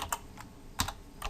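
Keys clatter on a computer keyboard as code is typed, a few separate keystrokes and short bursts spread across a brief stretch, close and fairly crisp with no talking.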